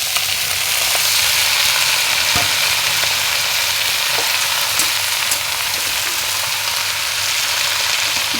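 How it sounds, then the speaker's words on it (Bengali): Greens tipped into a pan of browned onions hiss and sizzle loudly and continuously, close up, with occasional faint clinks and stirring scrapes. "তো এই তো আমার পেঁয়াজটা লাল লাল হয়ে গেছে, এখন আমি শাকটা ঢেলে দিচ্ছি"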